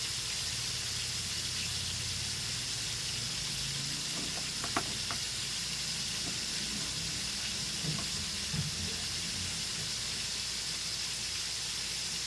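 Food fries in a pan with a faint, steady hiss and a few soft knocks of utensils.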